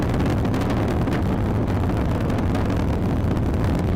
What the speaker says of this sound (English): Booster has now throttled back up.